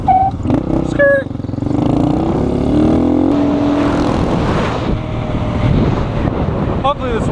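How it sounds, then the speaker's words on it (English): A Honda Grom motorcycle engine revving and rising in pitch as it pulls a wheelie, loud and close, with heavy wind buffeting over the microphone almost the whole time. "Let's get another wheelie in for the boys."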